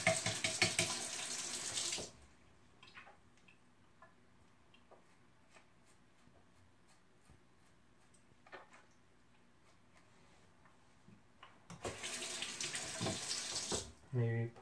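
Tap water runs into a bathroom sink while rinsing a razor during a moustache shave, loud and steady for about two seconds at the start, then quiet with small clicks, before the stream returns near the end.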